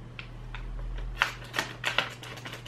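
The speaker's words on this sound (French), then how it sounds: "Attendez, je vais l'ouvrir l'autre paquet." Plastic wrapping of a Playmobil figure packet being torn and crinkled open, a series of short sharp rustles and crackles close up, louder toward the end, over a low steady hum.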